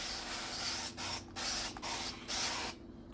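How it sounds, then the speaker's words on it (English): An oil sprayer mists oil onto the sides of a freshly kneaded potato bread dough, giving four or five short, close hissing bursts separated by brief gaps. "I have a little oil sprayer, so we're gonna particularly get the sides."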